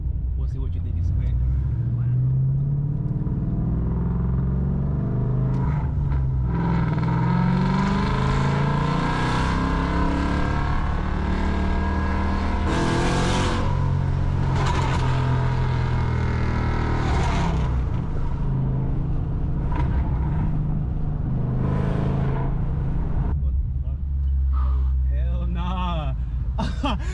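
Ford Mustang GT with active exhaust revving hard inside the car, a loud continuous low rumble rising and falling over roughly half a minute, with people talking over it throughout.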